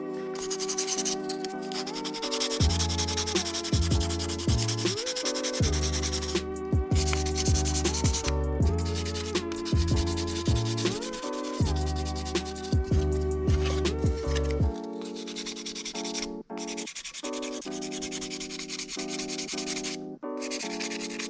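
Sanding a 1/25 scale AMT 2017 Camaro Fifty plastic model car body: close, rhythmic rasping strokes in repeated bursts, with steady music playing underneath.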